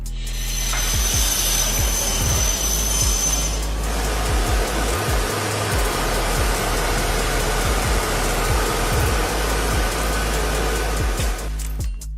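A factory machine heating and forming plastic sheet into a suitcase body, a loud continuous mechanical roar with a low hum, a higher whine early on and scattered clunks, no talk.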